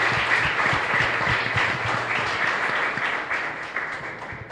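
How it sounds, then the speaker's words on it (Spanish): Loud, continuous applause from a congregation at a Catholic Mass in a chapel, a thick steady clatter of many hands clapping together, close and full throughout, gradually thinning slightly toward the end. "Y un fuerte aplauso para todos ustedes."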